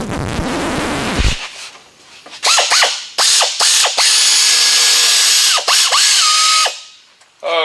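A power drill or impact driver whirs in several short bursts as bolts come off a car's heater box, its motor winding up and down with ratcheting clicks and pauses between the bursts, loud and close.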